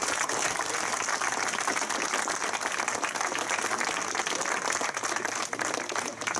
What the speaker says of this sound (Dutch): het mag best een applaus voor de Harmonievereniging.